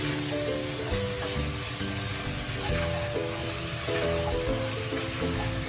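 Ginger garlic paste fries in a pan for a scallop curry, giving a steady, close hiss and sizzle that holds nearly constant throughout, with a faint musical tone running beneath and no talking.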